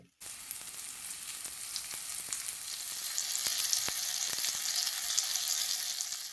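Surmai fish shallow-frying in a little oil on a flat tava, a steady close sizzle that starts after a brief silence and grows slightly louder, with scattered crackles and pops throughout.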